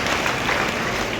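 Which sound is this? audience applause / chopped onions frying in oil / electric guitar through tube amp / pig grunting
audience applause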